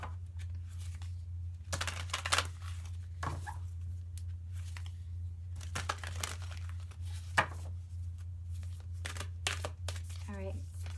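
Herbiary oracle cards are handled and shuffled close up in a quiet room, giving sporadic crisp crinkles, slides and paper snaps over a steady low hum, with a few soft murmurs between them.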